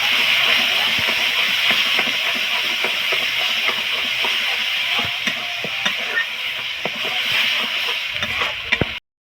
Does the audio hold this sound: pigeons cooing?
no